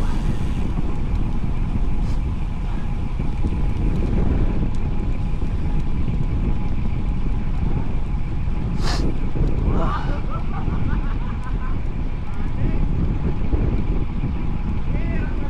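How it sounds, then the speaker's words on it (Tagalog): Strong gusting wind buffeting the microphone during a long bike ride, a continuous loud low roar throughout with a brief sharper gust near the middle. "Lakas ang hangin."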